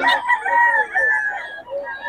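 A rooster crows loudly and close by at a Bocaue tiangge market, one long rising and falling call lasting about two seconds.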